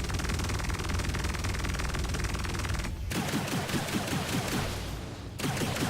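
Rapid repeater guns on a spaceship fire in dense bursts in the game Star Citizen, loud and continuous, with a brief pause before the firing resumes.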